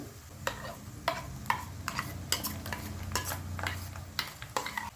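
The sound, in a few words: masala paste frying with onions in pan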